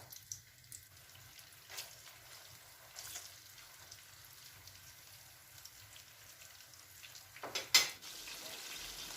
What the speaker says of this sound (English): When the oil is already hot, start frying the chicken slices.